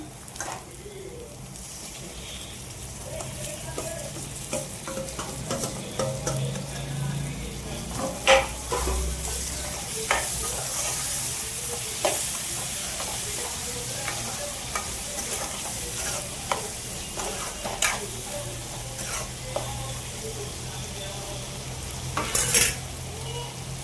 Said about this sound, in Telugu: కారం వేసాక ఇప్పుడు టమాటా ఏదైతే ఉందో అవి వేసుకుందాం.